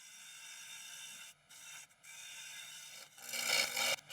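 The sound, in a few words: carbide tool cutting wood undercut on lathe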